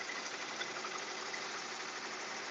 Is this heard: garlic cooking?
no